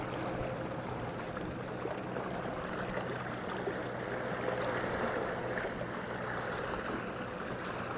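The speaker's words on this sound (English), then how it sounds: "Listen to that water." Lake water laps steadily along the shore at Ray Roberts Lake, Isle du Bois, a continuous soft wash and splash with no voices.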